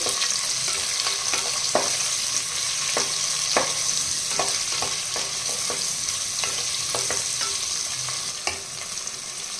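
Green chilies and cashews fry in hot oil with a continuous close sizzle, broken by repeated sharp scrapes and taps of a spoon stirring the pan. No voices.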